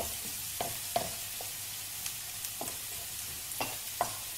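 Onions fry in a pan with a soft, faint sizzle, broken by a few light scrapes and knocks of stirring at irregular intervals.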